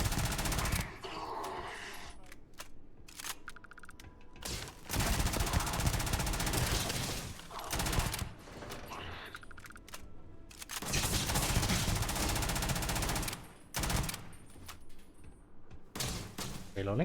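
Gunfire from a modded gun in Starfield, long bursts of rapid automatic fire broken by short pauses, loud and close, with someone talking at times over the shooting.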